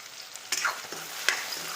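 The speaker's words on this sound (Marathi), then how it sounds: "याला पण छान परतून घेऊया।" Spices with chili powder, turmeric and salt stirred and sautéing in a pan for homemade noodles, a soft steady sizzle with a couple of sharp scraping stirs, close and quiet.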